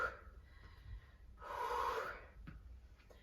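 Breathing during an interval sprint workout: a faint breath at the start, then a stronger, longer exhale in the middle, alone without talk.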